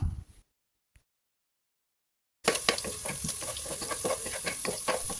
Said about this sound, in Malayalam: ഇതിൻ്റെ കൂടെ തന്നെ അല്പം അണ്ടിപ്പരിപ്പും മുന്തിരിയും കുറച്ച് കറിവേപ്പിലയും കൂടി ഒന്ന് ഫ്രൈ ചെയ്തിട്ട് മാറ്റി വെക്കാം